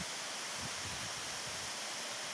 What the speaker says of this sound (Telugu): వాటర్ అనేది ఫాల్ అవుతూనే ఉంది.